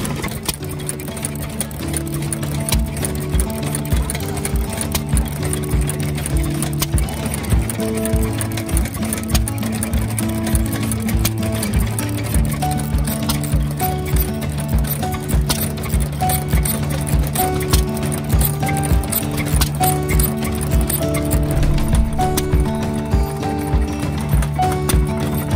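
An old 3 horsepower stationary engine from the 1900s, once used in a wool shed, runs with a steady rhythmic chugging and clatter, loud and close throughout with no talk.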